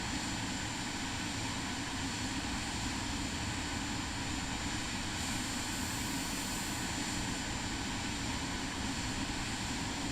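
A steady, unbroken aircraft engine drone taxiing to a runway in a flight simulator game, a dense constant roar with no pauses or changes in level, alone and fairly loud throughout.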